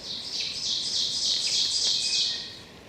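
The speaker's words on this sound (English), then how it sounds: "it's just me and the birds" Birds chirp and squawk in a forest at night at a campsite, a busy run of repeated high calls that swells and fades, with no voices.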